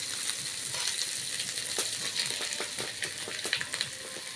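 Spices such as chili powder, coriander powder and chicken masala sizzle in hot oil for a cauliflower gravy, giving a steady close crackle with small clinks of stirring toward the end.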